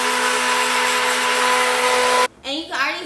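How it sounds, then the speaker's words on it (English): An immersion blender whirs steadily in a thick hair butter mixture, a loud constant motor hum close up that cuts off suddenly, followed by a voice talking. "We're going to take our immersion blender, and we're just going to emulsify the two products."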